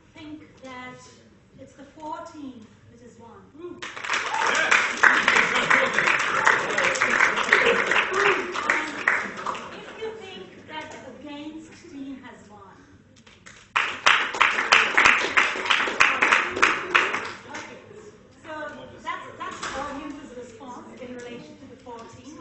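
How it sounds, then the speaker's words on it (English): A live audience claps loudly in two long bursts, one lasting about ten seconds and a shorter one later, with someone talking in between and afterward. "Give a loud clap if"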